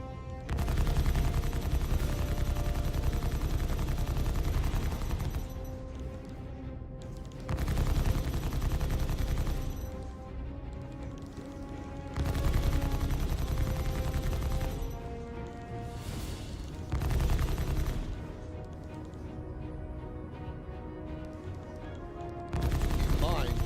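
Ship shields in the video game Star Citizen take weapons fire in heavy, loud bursts of rapid impacts, each several seconds long and separated by brief quieter gaps.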